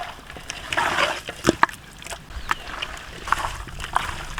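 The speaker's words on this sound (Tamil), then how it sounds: "இப்போ எல்லாத்தையும் நல்லா பிசைஞ்சு ஊற வச்சுக்கலாம்" Raw chicken hand-mixed with kasuri methi and salt for marinating in an outdoor village kitchen: wet squelching and slapping in irregular bursts, close and moderately loud.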